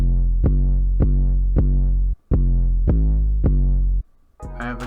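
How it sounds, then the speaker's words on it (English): 808 bass pattern in a hip-hop beat: deep booming notes with sharp attacks, struck in a steady rhythm with a brief pause midway, loud and alone, followed by a short gap and a burst of another sound. "Here's what the 808 pattern's looking like."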